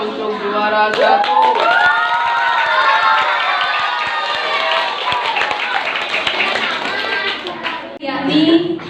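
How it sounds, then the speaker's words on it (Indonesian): Audience at a primary school's Isra' Mi'raj commemoration claps for a first-place competition winner, the clapping loud and close but mixed with a dense wash of children's excited voices and shouts that nearly covers it for the full stretch. "Tepuk tangan yang meriah untuk juara 1."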